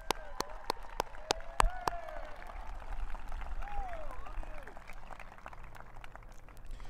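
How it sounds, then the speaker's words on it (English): Audience at a high school graduation ceremony applauds the class, scattered claps and crowd noise, with a few loud sharp hand claps close by early on and a faint whistle-like tone drifting through. "A good round of applause for this class."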